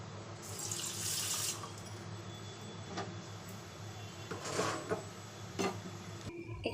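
A cup of water runs from a tap into a pot for jalebi sugar syrup, a steady close splashing stream that stops near the end, with no talking.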